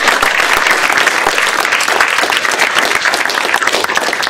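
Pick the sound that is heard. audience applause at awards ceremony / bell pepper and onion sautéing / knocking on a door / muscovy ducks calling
audience applause at awards ceremony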